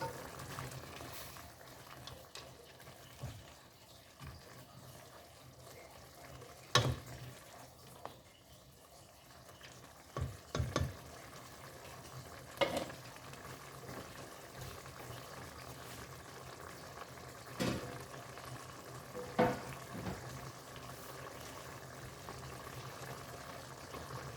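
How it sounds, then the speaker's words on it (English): Spaghetti sauce with ground turkey and bacon, grease included, bubbles in a pot in a home kitchen, a steady close simmering hiss broken by occasional louder pops and soft clanks. "we're gonna let it continue to boil"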